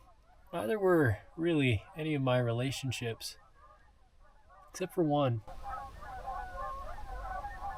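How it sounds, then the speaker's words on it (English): A flock of geese honks outdoors in January, the calls distant and continuous behind someone talking nearby, then carrying on alone once he stops. "there's a bunch of geese in the background"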